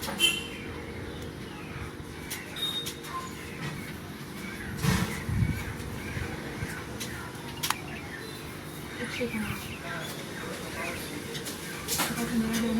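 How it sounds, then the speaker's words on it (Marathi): Various birds chirp in a fruit orchard where they come to feed, with faint, scattered tweets and calls over a steady outdoor background hum, somewhat distant and without clear talk. "त्या पक्ष्यांचा पण छान असा किलबिला टाईपवाला"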